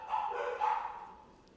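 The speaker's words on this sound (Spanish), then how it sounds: "perdón porque van a ladrar mis perros" Dogs barking nearby in a home, a couple of short yapping bursts that fade into faint background.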